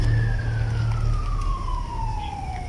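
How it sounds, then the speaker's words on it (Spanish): Busy traffic in the historic centre of Guadalajara, with a continuous loud roar of passing cars and buses and a siren wailing and sliding downward in pitch across the whole stretch. "Pasa mucho transporte, mucho carro."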